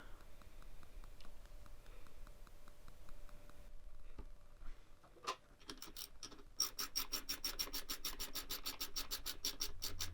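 Bolt wrapped in thread tape being threaded into a 1JZ engine's coolant fitting: faint scraping and rubbing at first, then a fast run of close, crisp ticking clicks from a ratchet.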